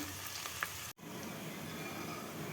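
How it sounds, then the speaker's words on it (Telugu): Onions frying in oil for a chicken curry gravy, a steady close sizzle with a brief dropout partway through, no voices. "ఈరోజు నేను చికెన్లోకి ఆనియన్స్ ఫ్రై చేస్తున్నాను"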